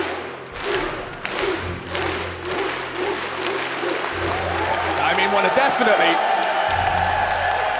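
Esports arena crowd at a Counter-Strike semi-final in Dallas, cheering and applauding in a steady, swelling roar with whoops, while commentators talk over it.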